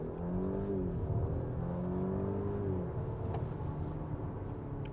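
A VW Touareg R V6 accelerates hard, its engine note climbing and shifting in pitch in steps as it pulls, heard from inside the cabin as a low, steady rumble with no talk.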